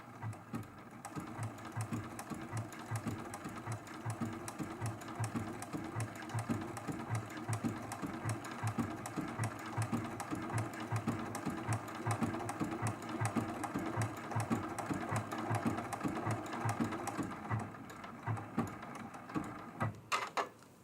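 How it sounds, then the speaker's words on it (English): Sewing machine working a blanket stitch along the edge of an appliqué in a quilt-as-you-go block, its needle hammering in a steady fast rhythm that runs continuously and close up with no talking. "So the blanket stitch comes over into the applique, and then the needle, when it goes straight, I'm having it ride right next to the edge of the applique."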